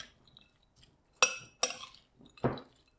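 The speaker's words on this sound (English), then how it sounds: "And then just stir it all together again." A spoon stirs an olive and walnut salad in a bowl, giving three distinct scraping, clinking bursts of utensil against dish between near-silent pauses, close and moderately loud.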